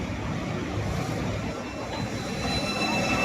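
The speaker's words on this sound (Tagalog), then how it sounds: "Ayan, meron pang tren na dumaan." An LRT train rumbling overhead on an elevated track above a street, a dense continuous roar of wheels and cars with faint high squeal, loud and steady throughout with no talk.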